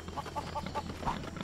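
Chickens clucking in the Lego Worlds video game, a quick series of five short, evenly spaced clucks over a soft ambient background, fairly faint with no talk.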